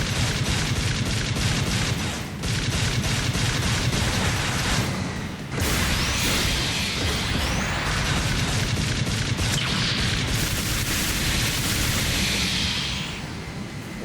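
A Zaku mobile suit's machine gun fires in Gundam U.C. Engage, a dense continuous stream of rapid booming shots with brief gaps, loud and layered over game effects.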